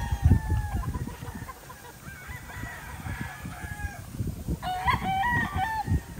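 Chickens eating and pecking at feed give soft irregular taps and clucks under louder rooster crowing and honking fowl calls. The birds are close, and a high steady whine runs throughout.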